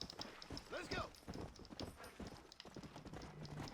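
A horse steed galloping in the video game Red Dead Redemption: Undead Nightmare, steady rapid hoofbeats under someone talking, with a brief whinny early on.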